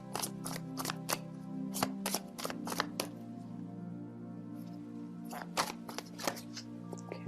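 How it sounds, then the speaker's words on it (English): A tarot deck is handled as a card is drawn: clusters of soft, crisp papery snaps and flicks over a low steady hum, with a lull in the middle before another quick flurry. "let me just pull out a card"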